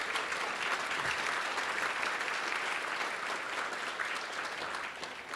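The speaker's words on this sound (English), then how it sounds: "let's please give them a warm round of applause." A conference audience at a college flex day gives a warm round of applause, a dense and continuous wash of clapping that holds steady before easing slightly at the end, with no voices.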